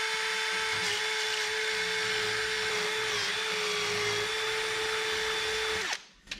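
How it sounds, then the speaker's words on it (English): A power drill drilling out metal on a box truck carburetor swap whines steadily at a constant pitch for several seconds, close and loud, then winds down and stops with a few clunks. "Drill her out a little bit there."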